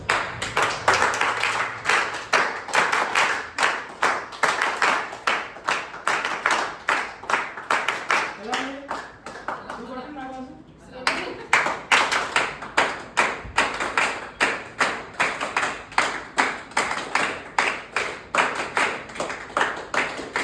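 A group claps together in a repeating 1-2, 1-2-3 pattern at a training workshop, with crisp, evenly spaced claps filling the room and a brief pause near the middle before the rhythm resumes.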